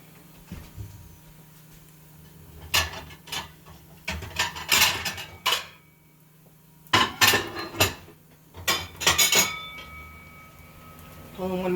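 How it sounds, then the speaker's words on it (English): Heavy ceramic plates clatter and clink as they are pulled down from a cupboard and handled in a home kitchen while crepes cook, in several loud bursts of knocking and scraping separated by short pauses. "pulling one of my special big plates down"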